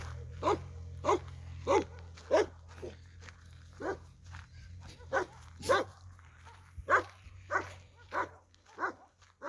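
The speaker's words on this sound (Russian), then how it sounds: "Много собаки лают, ну ладно." Several dogs barking in repeated, uneven bursts, some near and some farther off, over a steady low hum, with no talking.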